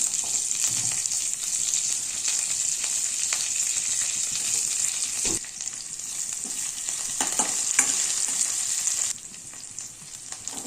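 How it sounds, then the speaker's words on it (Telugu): Onions, chillies and curry leaves frying in a pan for sweet potato curry, a bright steady sizzle up close with occasional stirring scrapes, dropping briefly in level before settling again. "ఇప్పుడు ఆనియన్స్, చిల్లీస్, కరివేపాకు వేసుకొని గోల్డెన్ కలర్ వచ్చేంత వరకు ఫ్రై చేయాలి."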